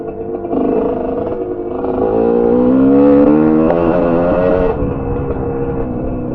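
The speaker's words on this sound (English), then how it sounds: "Gotta love the engine on the GPX TSE250, 230cc, two-stroke engine." A GPX TSE250 dirt bike with a 230cc two-stroke engine revs on a muddy trail, its buzzing note climbing to a loud peak and then easing back, close and steady with no talking.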